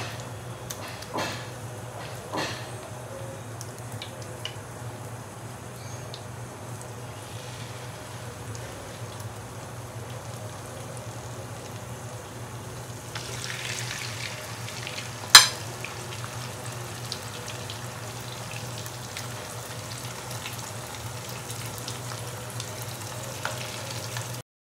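Chicken pieces fry in oil that is only moderately hot, with a soft, steady sizzle that stays faint and even, broken by a few light clinks and one sharper knock.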